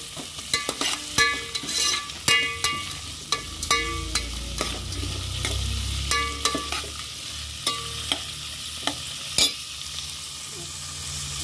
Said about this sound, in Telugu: ఉల్లిపాయలు అయితే లైట్గా ఫ్రై అవ్వాలి. ఆవాలు లైట్గా ఫ్రై అవ్వాలి.